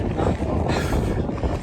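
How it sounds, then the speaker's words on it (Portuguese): Strong wind gusting outdoors in Alghero, Sardinia, blasting steadily across the microphone as a loud, rough, continuous rumble for the whole moment. "Ah, tá ventando pra caramba."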